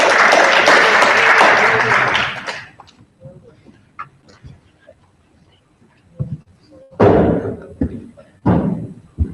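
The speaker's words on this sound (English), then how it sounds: "another round of applause" Audience applause at a conference plenary session fills the room loudly for a couple of seconds and then fades out, followed by quieter murmurs, shuffling and a few brief bursts of handling noise.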